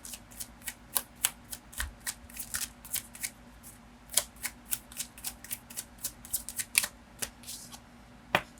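Tarot cards are shuffled by hand up close, a quick irregular run of sharp flicks and snaps that keeps going steadily throughout.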